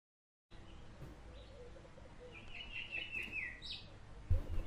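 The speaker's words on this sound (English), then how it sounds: "The birds chat in the trees as kids play around in the grass fields." Birdsong from trees at a park, a visual novel ambience effect: chirps and trills rise in the upper range over a soft, steady outdoor bed, growing a little busier midway, with a brief thump near the end.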